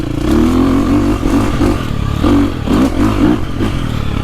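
A four-stroke KTM 350 XC-F or Husqvarna FE 450 dirt bike engine blips and revs in sharp, barky bursts close by, with short idle gaps between throttle stabs and no talking.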